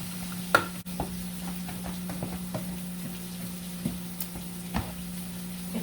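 Diced canned tomatoes being stirred into a cooking pot: faint, scattered scrapes and soft clicks from the spoon over a steady low hum, with no talking.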